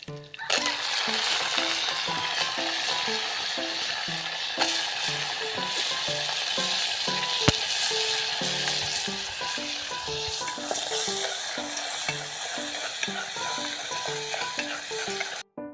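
Freshly caught food, meant to be cooked with water spinach, fries in hot cooking oil with a steady, loud crackling sizzle and occasional stirring clinks throughout, with no talking.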